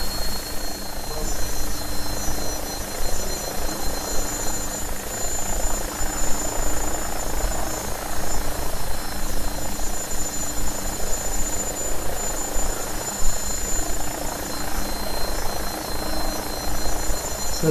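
Steady whirring drone of an AgustaWestland AW109SP helicopter engine and rotor in a flight simulator, constant and fairly loud, with a faint high whine running through it.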